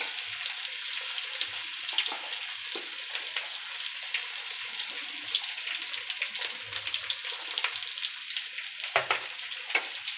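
Onion and chili fry in a pan with a steady crackling sizzle, broken by sharper pops and stirring scrapes, close and continuous with no talk.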